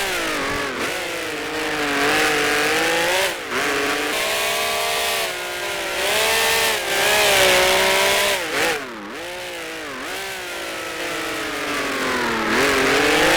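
A 1971 3-liter prototype sportscar engine screaming around the Targa Florio road circuit in the Grand Prix Legends game, revving hard and continuously, its pitch rising and dipping sharply through gear changes and braking.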